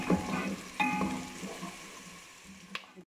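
Onions fry in a pot of oil for a potato chicken curry, a soft steady sizzle with a few sharp clinks of a spoon against the pot, close and fairly quiet.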